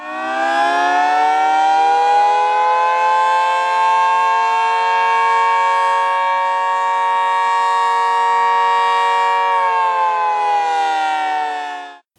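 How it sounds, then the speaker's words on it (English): A 2T22B civil defense siren whose worn motor brushes make it spin slow holds a steady, lowered multi-tone wail for about ten seconds, then slides down slightly and cuts off. "In some 2T22Bs, motors' brushes could have gone bad, making them spin slower, thus causing the Carter siren sound."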